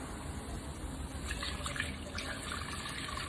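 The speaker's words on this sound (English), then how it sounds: "what you want to do is add your stock. So I've got about a liter of beef stock." About a liter of beef stock pours into a risotto pan, a faint, steady liquid splash and trickle close by with no talking.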